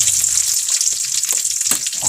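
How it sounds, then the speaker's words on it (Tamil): Mustard seeds and dried red chillies crackle and sizzle in hot oil during tempering, a loud continuous frying hiss broken by small popping bursts. "எண்ணெய் ஊற்றியாச்சு, கடுகு போட்டாச்சு"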